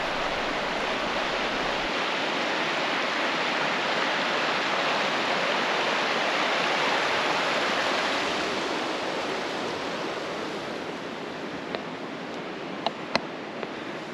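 Steady rushing water of a creek at a mountain campground in North Carolina, a continuous broadband roar that stays close and even throughout, with a few faint clicks near the end and no one talking.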